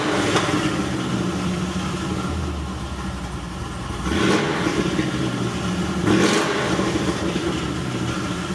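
Engine of a Chevy SS blipping under a Xineering downshift module, a steady idle broken by two short, sharp revs a couple of seconds apart, heard up close.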